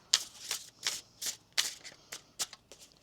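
Tarot cards are shuffled by hand in quick repeated riffles, about eight crisp papery bursts in a loose rhythm, close and clear with no voice.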